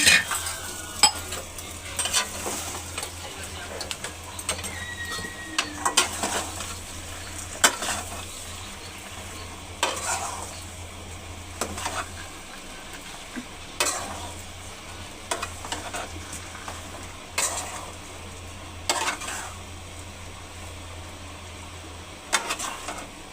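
Continuous soft sizzling of dhokla being tempered in a hot pan, broken by frequent scraping and clinking as a spoon stirs the contents.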